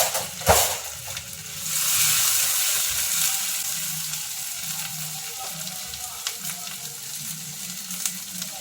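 Chopped onions and mint leaves frying in a pan, a continuous close sizzle with a sharp clatter near the start and occasional stirring scrapes.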